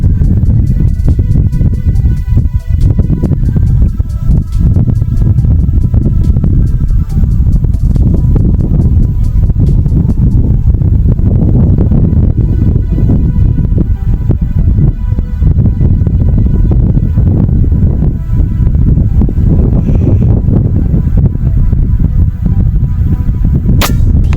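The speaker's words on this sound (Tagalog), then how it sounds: "dahil sa malakas na hangin" Loud, constant roaring wind buffets the microphone for the whole stretch, with dense low rumble and occasional sharp gusty thumps.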